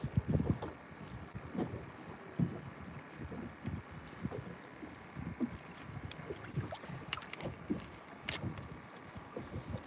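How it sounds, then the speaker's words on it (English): Gusty wind buffets a small fishing boat on open water, rumbling and thumping irregularly against the microphone with faint creaks and water sounds, close and persistent with no voices. "The wind definitely presents a challenge."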